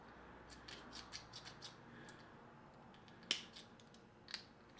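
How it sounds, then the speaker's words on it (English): Cutters from RigRap snipping fishing line while rigging catfish and striper tackle, heard as a few quiet, crisp snips close by, with one sharper cut standing out near the middle. "going to use the cutters on this that I got from RigRap"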